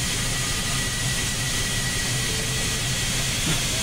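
A steam locomotive, AT&N Consolidation #2 on the Raquette Lake Railway in Train Simulator 2015, runs with a steady loud hiss and rolling rumble, continuous and close throughout.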